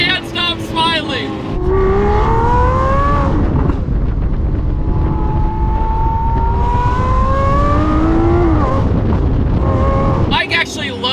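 A straight-piped Lamborghini SVJ roars through a long, loud rev, its pitch climbing, dipping and climbing again as the throttle is worked, bracketed by short bursts of a voice at the very start and end.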